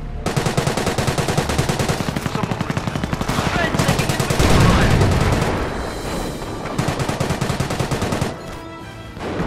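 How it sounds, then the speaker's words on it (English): Sustained bursts of MG-42 machine gun fire rattle through a Company of Heroes battle, dense rapid rounds mixed with explosions and a heavy boom midway, loud and continuous with brief pauses. "MG-42!"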